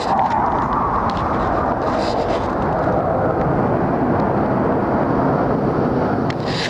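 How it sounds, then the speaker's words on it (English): A loud, steady roar of aircraft engines fills the whole stretch, a broad rumbling drone with wind-like noise and no talking. "These planes are very noisy."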